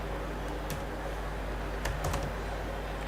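Sparse keystrokes on a computer keyboard while code is typed, a few quiet scattered clicks with a small cluster near the middle over steady low room hum.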